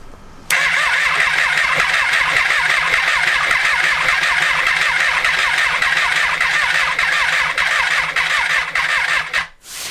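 Triumph Street Triple motorcycle being started while its MAP or crankshaft sensor fault is being diagnosed: after a short pause the engine catches and settles into a loud, steady close idle, then cuts off abruptly near the end.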